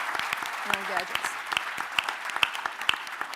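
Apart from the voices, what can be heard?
audience round of applause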